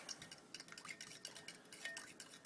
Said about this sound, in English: the bowl's big enough that I can whisk all 4 of those eggs into the milk